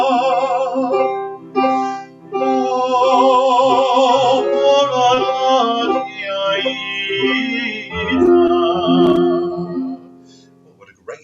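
A melodic warm-up tune built on themes from the opera Aida, sung or played with a sustained, wavering line that moves through several phrases, loud and close with brief breaks between sections.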